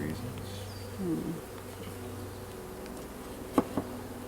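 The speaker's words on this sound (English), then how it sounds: "they're making a lot of noise" Honeybees buzzing inside an open hive, a steady low hum throughout with a few brief louder thumps or knocks near the end.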